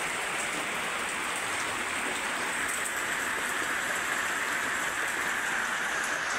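Heavy, constant rainfall drums on a farmhouse roof and yard, a thick wash of close patter that never lets up, with no one speaking.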